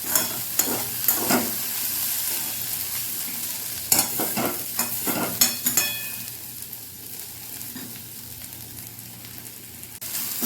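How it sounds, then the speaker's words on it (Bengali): Potatoes being stirred and fried in a pan: irregular scraping strokes of a utensil over a steady, close sizzle, with the stirring easing off partway through. "এটাকে আরও কিছুক্ষণ নাড়াচাড়া করে নেব যাতে আলুটা বেশ একেবারে একটু গলা গলা মতো ভাজাটা হয়ে যায়"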